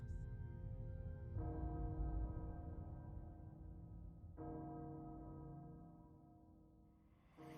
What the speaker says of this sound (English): Castle Bell heralds danger.